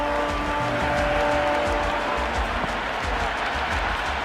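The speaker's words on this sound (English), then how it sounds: "Will you listen to that crowd? They are loving this." A roaring stadium crowd in a cricket video game, Cricket 26, cheering and applauding steadily and loudly as one dense wall of noise throughout.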